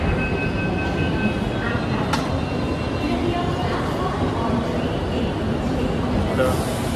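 A Mumbai metro train runs with a constant loud rumble and rail roar, a faint high whine and a brief sharp click partway through, while people talk over the noise.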